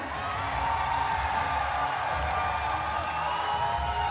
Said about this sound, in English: This crowd sounds excited